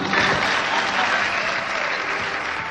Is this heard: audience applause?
yes